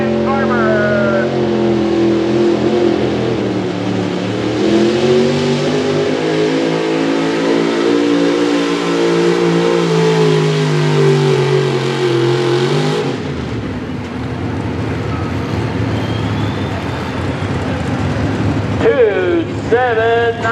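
A big-block, high-output 1987 Chevrolet 4x4 pulling truck roars loud and close at a Carrollton, Ohio truck pull, its engine pitch climbing and wavering under full throttle before cutting off sharply, then a brief rev near the end.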